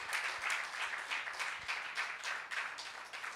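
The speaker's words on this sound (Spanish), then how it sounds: "let me hear you clap your hands in here tonight, everybody" A church audience claps their hands together in a steady, continuous patter that sounds distant and faint, with no voices rising above it.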